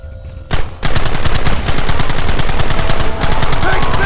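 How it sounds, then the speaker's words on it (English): Loud, rapid gunfire from a Red Dead Redemption shootout, with dense bursts of overlapping shots forming a continuous barrage after a brief opening pause. "There they are! Open fire!"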